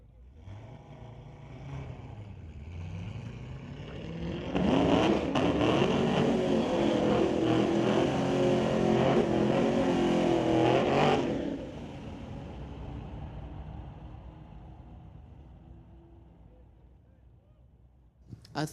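Two Corvettes launch side by side on a drag strip, engines building from a low idle into a loud sustained roar at full throttle for several seconds, then fading away into the distance.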